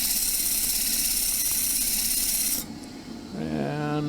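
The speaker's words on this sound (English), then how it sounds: "diamond lapping is slow, and even a coarse disc really doesn't remove that much material" Glass is ground against a diamond lap wheel, a steady close rasping hiss that cuts off partway through and gives way to a fainter rising whir.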